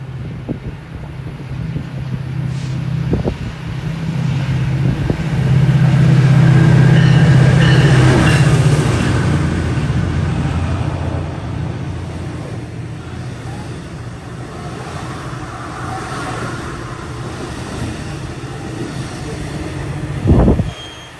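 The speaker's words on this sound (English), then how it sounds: "So yeah, here's some trains." Trains rumbling through a New York station, a long steady roar of wheels on rails that swells in the middle and then eases, with faint squeals and clanks, a sharp metallic bang near the end, and no talk.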